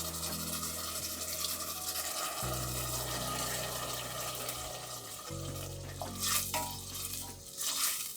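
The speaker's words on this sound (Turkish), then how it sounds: "Yine karıştırıyoruz ve bir çay bardağı kadar olacak şekilde su ilave ediyoruz." Şakşuka stirred in a pan just after a small glass of water is added, giving a continuous wet scraping and swishing over low, steady background tones.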